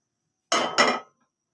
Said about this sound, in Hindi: सबसे पहले हम पैन लेंगे।